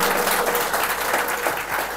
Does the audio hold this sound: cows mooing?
no